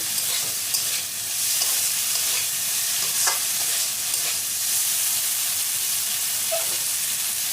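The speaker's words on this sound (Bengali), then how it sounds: "একটু নেড়ে চেড়ে ভেজে নেবো এইভাবে" Chicken fries in a pan for egg chicken pasta, making a loud, steady hiss of hot oil close by, broken by a few soft scrapes and clicks as it is stirred, with no voices.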